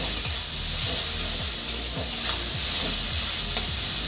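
Jujube fruit coated with turmeric and salt frying in hot oil, a steady loud sizzle throughout with repeated low knocks of stirring in the pan.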